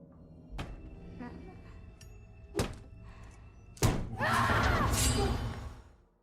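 A knife slammed down onto a floor inside a house gives a sharp thud, one of several heavy thumps spaced apart, with a voice and rustling noise around them.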